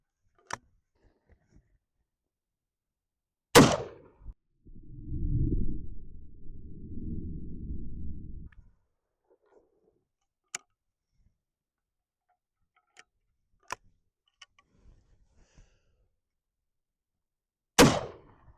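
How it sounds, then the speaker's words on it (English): Two sharp shotgun blasts fired at a target, loud and isolated, spaced well apart amid quiet outdoor surroundings, with a few faint ticks and a brief rustle between them. "we're going to do 2 shots into that upper left-hand side"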